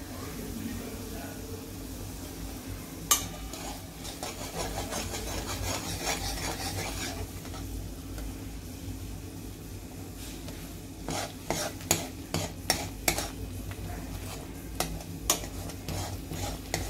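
Besan flour is worked into boiling water in a pot for vadi, a rough scraping stir that rasps against the pot. Sharp spoon knocks come later, with a voice talking at times.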